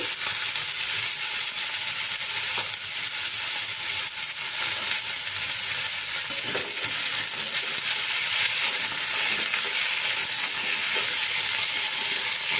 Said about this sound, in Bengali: এটাকে আমি হাই ফ্লেমে রেখেই কিন্তু একটুখানি ভেজে নেব